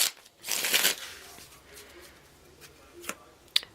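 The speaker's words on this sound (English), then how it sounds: "One more shuffle." A burst of tarot cards being shuffled, a quick riffling rush, followed by a few soft card taps and light handling sounds close by.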